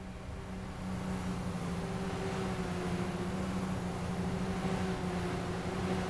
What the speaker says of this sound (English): I hear a turbo.